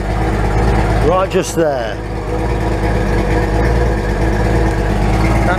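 An outboard motor runs steadily during a flush with flush muffs, a loud close idle drone under a voice, with a short burst of water noise partway through.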